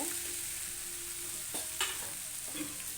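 Heated oil stirred into raw mango rice in a pan, a soft, quiet sizzle under scraping spoon strokes with a few brief clinks and knocks, no talking.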